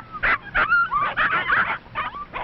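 Several puppies from a litter of seven whimper and yip in a quick run of high, close cries with short gaps between them.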